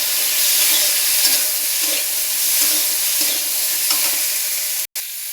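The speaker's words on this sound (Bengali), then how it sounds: "ছোলা কাটা ঢেলে দিলাম, দিয়ে এবার নাড়াচাড়া করবো।" Chopped chickpeas sizzle in a pan with cooked tomato while being stirred, a steady bright frying hiss with soft scraping strokes and a brief cut near the end.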